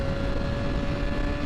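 A high-performance motorcycle at speed, a steady loud engine drone with a strong whining tone, mixed with heavy rushing wind noise, without talk.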